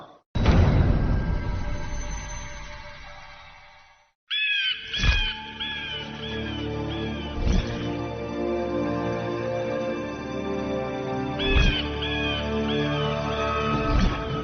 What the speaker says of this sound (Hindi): हमारे कोषागार में पक्षी?